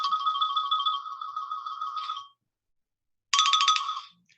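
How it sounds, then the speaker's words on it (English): A mobile phone plays a playful, xylophone-like ringtone: a steady two-note tone rings close and clear for about two seconds, stops for a second, then a shorter burst rings again, with no talking. "either you got a funny ringtone, or you got a mouse dancing on a xylophone over there"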